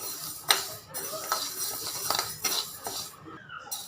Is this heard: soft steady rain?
no